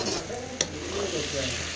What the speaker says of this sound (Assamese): যিহেতু ভাজিহে বনাইছোঁ সেইবাবে লৰাই আছোঁ।